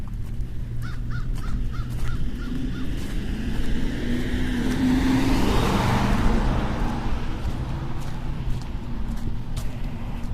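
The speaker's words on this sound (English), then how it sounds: "Look at the pretty crows." Crows caw in a short series of repeated calls over steady street traffic during an outdoor walk in Buffalo, with a passing vehicle swelling and fading in the middle.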